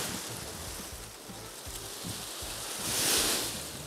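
Wind blowing at a beach shoreline, a steady broadband rush with low gusty rumbles that swells louder near the end, likely mixed with surf; no voices.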